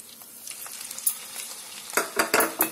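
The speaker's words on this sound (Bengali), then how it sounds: "দু তিন মিনিট আমি একটু ভেজে নেব" Onion paste frying in hot oil with a bay leaf in the pan left from frying fish, a low close sizzle broken by several sharp clanks and scrapes of a spatula stirring against the pan near the end.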